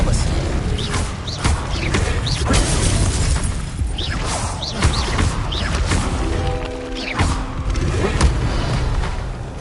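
Incendio and Expelliarmus spell effects in Hogwarts Legacy, with repeated bursts, crashes and whooshing impacts over a dense game soundscape and a brief tonal chime, all under near-constant loud action.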